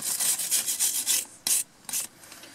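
Brake caliper mating surfaces on a Land Rover Discovery 3 are scrubbed clean during rear brake work, making a series of quick rasping strokes that stop, then a few separate scrapes, close and fairly quiet.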